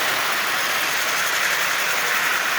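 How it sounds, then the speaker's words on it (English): A Marx 999 toy locomotive, stored for over fifty years, runs around its track with a steady whirring motor rattle, continuous and close throughout, no voices. "this locomotive is running just splendidly"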